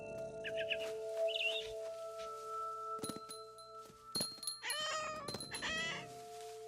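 A cat meows several times in the video game What Remains of Edith Finch. The cries are drawn-out and wavering, close and fairly loud, with a few soft thunks and a steady background tone.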